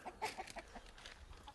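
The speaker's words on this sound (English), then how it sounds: "Our chickens hanging out." Backyard chickens on a small property on a cool spring morning, giving soft, scattered clucks in a loose, irregular rhythm, fairly close but quiet, with no talk over them.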